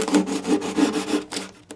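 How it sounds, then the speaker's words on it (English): Emery cloth rubbed back and forth across a fret on a Larrivee classical guitar during a re-fret, giving steady close scratchy strokes in a quick repeating rhythm with no talk. "now emery cloth to finish it off"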